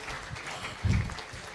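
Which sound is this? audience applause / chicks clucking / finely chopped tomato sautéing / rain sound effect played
audience applause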